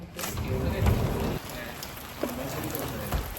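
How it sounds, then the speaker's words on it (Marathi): Heavy rain falls outside in a rainy-season setting, a soft continuous patter and hiss heard at moderate distance with a few louder drops and brief low voices in the background. "पाऊस खूप जास्त पडतो इथे"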